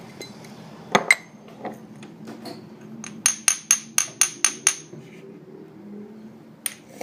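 A utensil clinks against a bowl as food is mixed: a few scattered taps, then a quick, even run of about seven bright metallic clinks, close and clear, then quiet with one last light tap.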